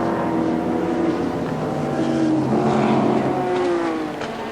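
Sports sedan racing car engines roar steadily at high revs at Amaroo Park in 1988, a loud droning whine that rises and falls slightly as the cars pass.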